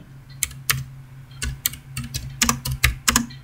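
Typing on a computer keyboard into the Windows search bar, a close series of quick, irregular key clicks in small bursts over a faint low hum.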